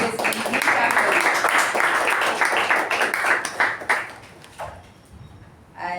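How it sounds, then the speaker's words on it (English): A meeting audience claps for the role takers, a dense burst of applause for about four seconds that thins out and fades, followed by a few scattered claps and light background noise. "can we have a round of applause for all the role takers"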